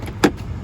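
A power door lock in a V6 Honda Accord clicks once, a short close mechanical actuation inside the car cabin.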